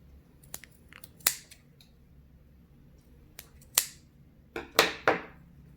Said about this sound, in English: At this point, you can cut off the little nose strips here,